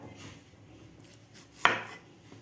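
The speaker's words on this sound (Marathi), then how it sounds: "ते कापून घ्यायचं आपल्याला." A single sharp knife chop on a cutting board, faint and close, among quiet handling of cut onion, tomato, cucumber, green chillies and coriander.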